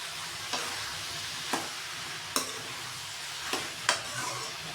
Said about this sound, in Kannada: ಚೆನ್ನಾಗಿ ಫ್ರೈ ಮಾಡ್ಕೋಬೇಕು.